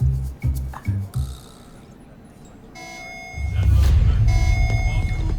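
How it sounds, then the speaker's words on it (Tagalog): A steady electronic alarm tone with harmonic bands sounds over a low rumbling background, after a few short bursts of talk at the start. "Alarm na naman. General alarm to."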